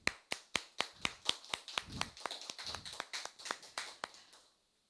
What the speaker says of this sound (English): Everyone with a big round of applause.